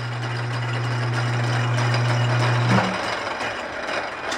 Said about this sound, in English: Turn off the lathe.